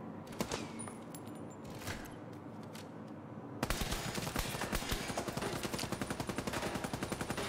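Rapid automatic gunfire from a firefight in the video game Division 2, a quieter scattered volley giving way to a dense, sustained burst of shots that rattles on steadily to the end.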